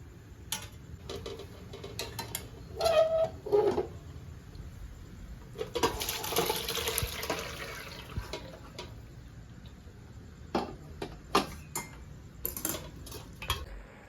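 Water splashes and pours as boiled pasta is drained, with clattering metal and pan knocks before and after the main rush of water.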